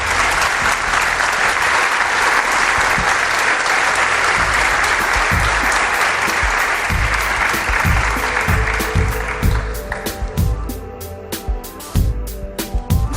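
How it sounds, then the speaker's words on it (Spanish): Sustained audience applause fills a Spanish TV studio for a guest artist, loud and dense at first, then thinning into scattered separate claps near the end. "Pido un aplauso para él."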